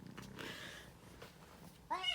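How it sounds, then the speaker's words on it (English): A young pet kitten gives a short, rising meow near the end, close and clear after a brief moment of faint room noise. "This is my new kitten."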